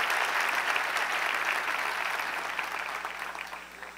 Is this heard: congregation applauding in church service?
yes